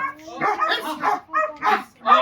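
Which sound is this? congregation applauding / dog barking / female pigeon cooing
dog barking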